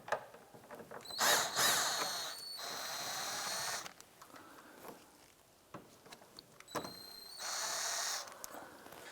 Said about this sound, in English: Using a 7mm socket, we're going to go ahead and loosen and remove these two right here